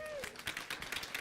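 An audience at Calexico High School applauds the jazz band director with a quick run of claps, faint and somewhat distant, following the tail of a voice.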